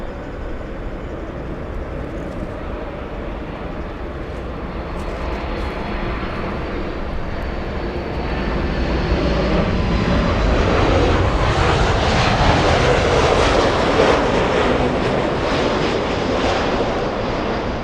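A Delta airliner on runway 24 left at Los Angeles International Airport gives off a loud, sustained jet engine roar that swells midway and holds steady, heard from a distance with no talk.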